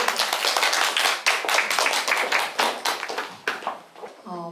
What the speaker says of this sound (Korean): 자, 6분께 박수 부탁드리겠습니다.